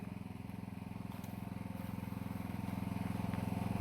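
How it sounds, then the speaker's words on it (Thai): An engine-driven water pump fills a second spray tank in a flowering Nam Dok Mai Si Thong mango orchard. It gives a steady, close, throbbing drone that grows slightly louder over the few seconds, with no talk. "ตอนนี้กำลังสูบน้ำถังที่สองอยู่นะเพื่อนๆนะ"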